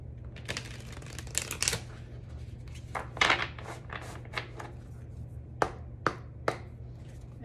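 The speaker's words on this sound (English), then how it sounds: "let's grab you a couple of Moonology cards for advice" Moonology oracle cards being shuffled by hand, quiet riffling and soft taps in short bursts over a steady low hum, close and faint.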